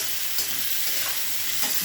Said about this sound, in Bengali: ভেজানোগুলো দিয়ে দিলাম ভালো করে নেড়ে চেড়ে ভাজবো